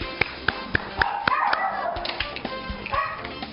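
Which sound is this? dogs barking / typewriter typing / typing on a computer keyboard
dogs barking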